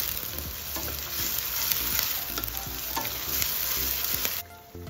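Onions and garlic sautéing in a pan, stirred continuously: a dense, even sizzle with repeated spoon scrapes against the pan, close and fairly loud, fading out abruptly at the end.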